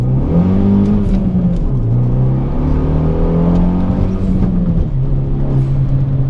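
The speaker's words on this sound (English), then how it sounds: "So a little first, second and third gear pull for us." A Renault Megane R26 engine pulls hard through first, second and third gear, loud and close, the revs climbing steadily then dropping at each gear change, with a continuous rumble throughout.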